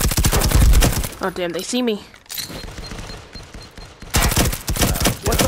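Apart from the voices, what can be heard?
gunfire in the video game Firewall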